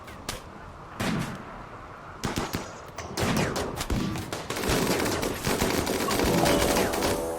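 Rapid bursts of gunfire crackle through a RimWorld battle against sappers, starting as scattered volleys and building into dense, continuous overlapping shots.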